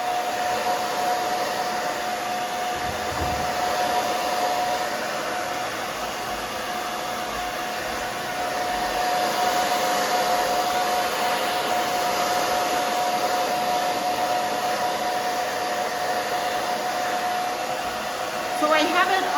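A blow dryer runs steadily on high speed with medium heat for the whole stretch, a constant loud whooshing roar with a faint whine, no talking.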